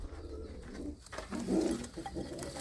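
A red female pigeon in a fancier's loft in Punjab gives a soft, low coo, close and fairly quiet, with faint background noise and no talking.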